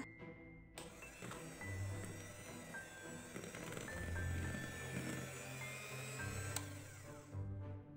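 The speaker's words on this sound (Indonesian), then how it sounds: "masukkan singkong parut dan mixer kembali. Masih dengan kecepatan rendah ya." Electric hand mixer running at low speed through a grated cassava batter, a steady moderate motor whir with faint scraping, continuous for several seconds before cutting off.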